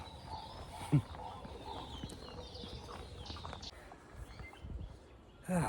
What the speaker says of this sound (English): there's 20 different bird species just calling here this morning